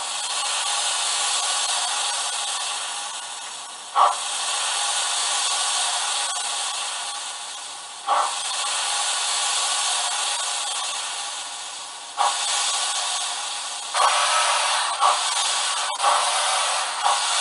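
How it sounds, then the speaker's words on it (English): A model train's steam cocks hiss steadily from a sound decoder, loud and close, with a few brief clicks and breaks between long stretches of hiss. "We'll put the steam cocks on."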